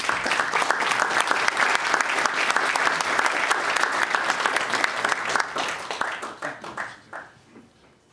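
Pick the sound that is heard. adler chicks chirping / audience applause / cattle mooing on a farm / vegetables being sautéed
audience applause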